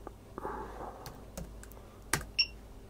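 Sparse keystrokes on a computer keyboard while a command is typed, a handful of quiet, separate clicks in a still room, no speech.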